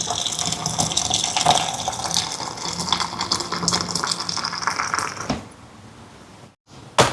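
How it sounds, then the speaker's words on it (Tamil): Water boiling in a pot of salted water being heated to make puttu alongside a dried fish curry, a steady rushing bubbling close by that cuts off sharply near the end. "தண்ணி கொதிச்சுட்டு"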